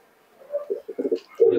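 Pigeons of Teddy and Malbai breeds kept for sale coo nearby in a few soft, throaty bursts, rising to a louder coo at the end.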